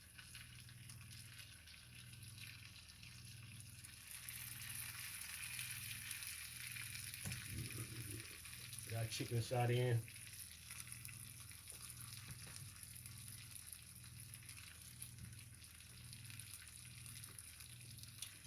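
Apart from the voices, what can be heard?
raw chicken pieces sizzling as they are set into a hot pan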